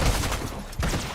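Sniper rifle fire in Fortnite, a sharp loud shot at the start and a second report near the end, each with a heavy low boom over noisy game ambience.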